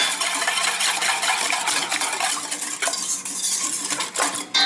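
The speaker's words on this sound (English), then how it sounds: "and whisk that up really good." A whisk beats a milk mixture and all-purpose flour in a bowl, making rapid, continuous metallic scraping and clinking close by, steady for several seconds with no voices.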